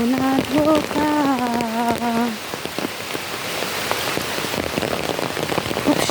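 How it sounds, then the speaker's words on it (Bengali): Monsoon rain falling steadily on a muddy village road, a dense close hiss of drops with scattered louder splashes, while a man sings a short tune over it at the start. "দেখেছেন একদম বৃষ্টিটা শুরু হয়েছে কিভাবে।"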